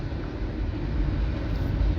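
A BNSF freight train with distributed power units rolls past in Friona, Texas, a loud, steady, low rumble and roar with no break across the short stretch.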